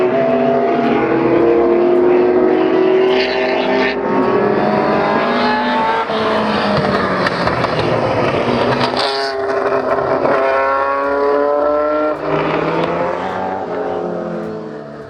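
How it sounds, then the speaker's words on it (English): A Cosworth DFV V8 Formula 1 engine screams loudly on track, its pitch climbing through gears in repeated rising sweeps, dropping on shifts and surging again as the car passes close. "the standard DFV Formula 1 engines being used, which in my opinion was the best sounding V8 of all time"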